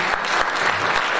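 Church congregation clapping for the Lord, a brief burst of dense, steady applause from a crowd, close and continuous.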